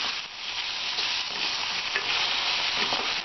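Tomatoes frying with softened onions in a pan, a dense, continuous sizzle with light stirring scrapes, close and loud, with no voices.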